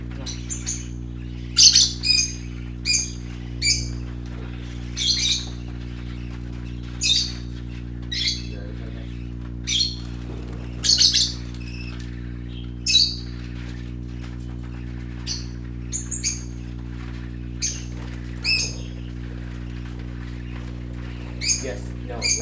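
Pet lovebirds, kept with colorful baby parakeets, give sharp, loud squawks and chirps in short bursts every second or so over a constant low electrical hum.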